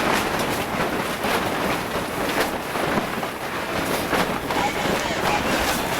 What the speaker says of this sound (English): The wind is very strong.